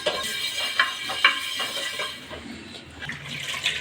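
Running tap water splashes over a dosa pan being washed, a close, gushing stream broken by a few sharper splashes as the pan is moved beneath it, with no speech.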